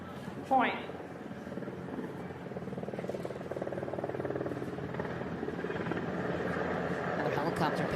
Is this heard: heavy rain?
no